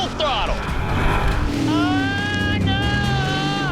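A race car engine at full throttle screams with rising and falling pitch sweeps as it shifts, loud and close, while a voice talks over it.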